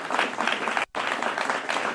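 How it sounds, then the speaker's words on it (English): Crowd applause for a senior high school at a quiz show, brisk steady clapping broken by a brief cut, then continuing just as strongly. "the applause should be louder"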